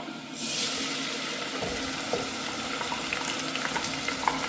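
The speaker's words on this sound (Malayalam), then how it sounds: "ഒരു ചെറിയ കഷ്ണം ഇഞ്ചിയും ഒരു കുടം ചെറിയ ഒരു കുടം വെളുത്തുള്ളിയും കൂടെ നല്ല ഫൈനായിട്ട് അരച്ചത് അത് നമുക്ക് ഒഴിച്ചു കൊടുക്കാം" Finely ground ginger-garlic paste hits hot oil with onions in a pan for prawn rice, giving a sudden burst of sizzling that settles into a steady frying hiss with faint stirring scrapes.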